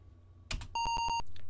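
A short burst, then four quick electronic beeps in an even rhythm, bright and close, from the 1980 Apple II game Akalabeth: World of Doom.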